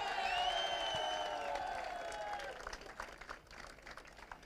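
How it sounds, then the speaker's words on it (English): Faint applause from a crowd at a karting world championship podium ceremony rises beneath a sustained tonal sweep, then thins into scattered claps as the sound fades. "Please, round of applause for Joe Turney."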